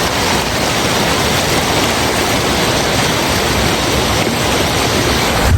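Water flowing steadily through grassland in Murcia, Negros Occidental, a loud, dense, unbroken rush like a stream or small falls, close by with no voices.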